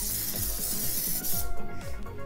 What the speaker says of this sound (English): You will wanna get some cooking spray